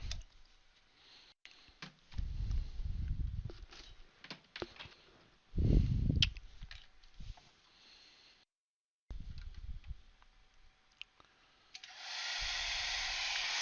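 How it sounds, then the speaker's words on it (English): A hair dryer switches on and blows at full power with a steady, loud broadband whoosh after some clicks, handling noises and brief quiet. "Let me plug hair dryer and see what Snakol going to measure"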